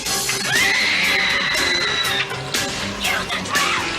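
In a video game bathroom scene, a voice-acted scream holds one long, loud wail, followed by a second, shorter shriek.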